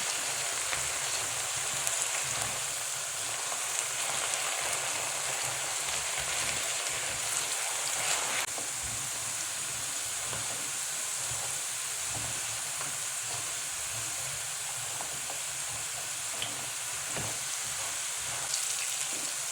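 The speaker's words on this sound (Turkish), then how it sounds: "Orta ateşte kızaran patateslerimizi ara ara karıştırarak her tarafın eşit şekilde kızarmasını sağlayalım." Potatoes fry in a pan over medium heat, giving a steady, close sizzle and crackle with soft hiss that runs on continuously with small pops and no voices.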